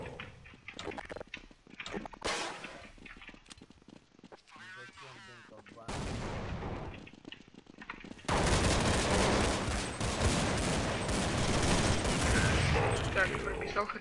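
Gunfire in competitive Counter-Strike 1.6, including a Desert Eagle pistol: sharp shots and bursts build into loud, dense sustained fire in the second half, with people talking over it.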